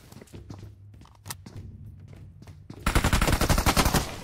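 Rapid bursts of gunfire from a hunting video game, starting after a quiet stretch of scattered thuds and then rattling loud and dense at close range to the end.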